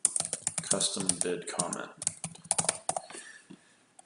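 Typing on a computer keyboard in a bid software dashboard, with quick, close clicking keystrokes in bursts while a person talks, then a few last taps fading out.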